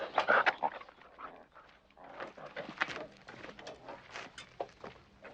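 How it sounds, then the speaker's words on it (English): Dogs and puppies in a kennel: scattered yips, whimpers and panting from several animals, a busy jumble of small close-by sounds with no voices. "Perhaps you'd like to see the dogs."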